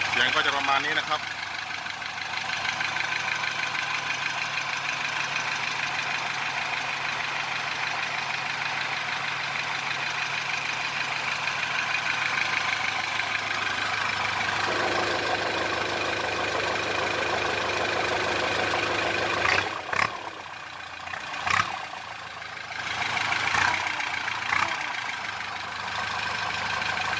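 Car engine running with a straight-through exhaust and the muffler cut out, a steady loud drone that is revved partway through before dropping back, with someone talking over it.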